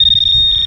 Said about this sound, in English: That's when my KG3 beeped.